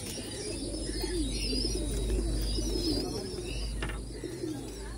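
White Madrasi pigeons coo steadily in soft repeated calls, close and continuous, with a low rumble beneath and faint chirps mixed in.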